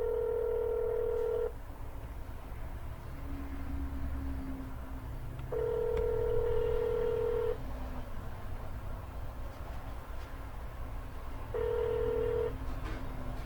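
Telephone dialing tones from placing a cold call about an expired real estate listing: three separate bursts of steady ringback-style tones with lower tones between them, clear and alone with no talking.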